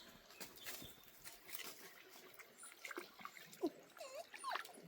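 A small dog near water, with soft whimpers and brief yelps over a faint trickle of water and rustling; no talk, the animal calls rising toward the end.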